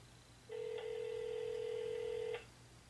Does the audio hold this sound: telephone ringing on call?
yes